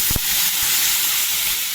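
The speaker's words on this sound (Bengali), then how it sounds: "এরপর আমি ডালটা ঢেলে দিলাম" Dal poured into hot oil produces a loud, dense sizzling hiss that starts sharply and stays steady, close up and without talk.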